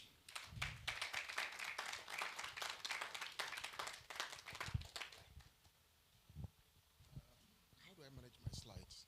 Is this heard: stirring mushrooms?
no